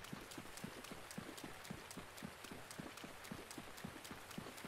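A horse gallops in Zelda: Breath of the Wild, its hooves beating a steady, quick clip-clop rhythm throughout, faint and even with no voices over it.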